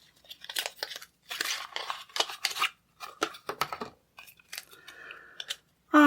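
Shuffling of a deck of nature-themed oracle cards, uneven bursts of riffling and slapping card sounds, close and fairly crisp, with short pauses between handfuls.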